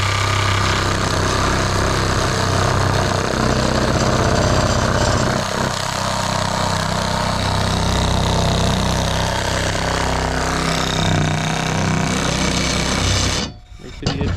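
Dewalt battery-powered fiber cement shears cut through siding with a loud, continuous grinding and chattering drone close by, running steadily for about thirteen seconds before stopping abruptly near the end.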